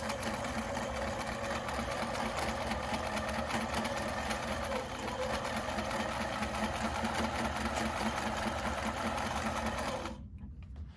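A sewing machine stitches a second seam line on a fabric face mask. It gives a steady, close mechanical whir that runs without a break for about ten seconds and then stops abruptly, with no talking.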